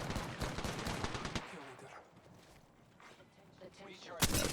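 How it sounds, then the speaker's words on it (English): Rapid gunfire bursts from Apex Legends, loud and dense at the start, fading to quieter ambient game noise in the middle, with another sharp burst at the end. "Just trying to get a couple of little shots on this guy, weaken him out"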